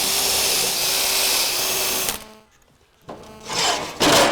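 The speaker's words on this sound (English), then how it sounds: "All I'm doing is drilling out the rivets that hold down the checker plate." A power drill whines loudly and steadily, drilling out rivets holding down checker plate on a Land Rover Series 3, cutting off briefly into near silence before starting again in short, grinding bursts.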